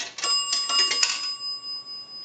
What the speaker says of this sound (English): A dime is going to ring the bell twice.